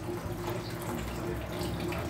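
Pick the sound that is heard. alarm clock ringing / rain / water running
water running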